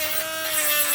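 A Genesis 7.2V Li-Ion cordless hobby rotary tool, a cheap Dremel-style unit topping out at 18,000 RPM, whines steadily at high speed with a constant pitched motor tone, close up and alone.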